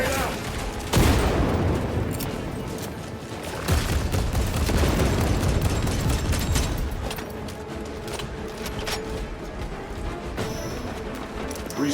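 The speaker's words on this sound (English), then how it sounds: "Frag grenade out." A frag grenade explosion and gunfire in Warhammer 40k: Space Marine 2, with sharp blasts and booming detonations near the start and middle over a rattling battle din that fades to a lower roar.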